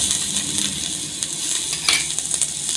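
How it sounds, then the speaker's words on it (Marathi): Chopped onion sizzling in hot oil in a pan, a steady close crackle and hiss with a few light scraping stirs and faint clinks of a spoon. "आणि कांदा भाजून घेऊ कांद्यामध्ये थोडस तेल टाकू"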